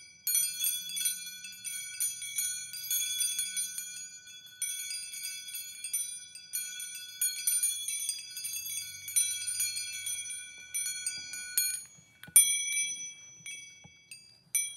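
Small bells ring one at a time in a series of bright, clear strikes, each leaving a shimmering ring that overlaps the next, with no voices.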